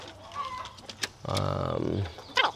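Chickens of mixed farm breeds, Rhode Island and New Hampshire Red among them, cluck and call at close range on a farm in San Diego, with a sustained squawk in the middle and short bursts around it.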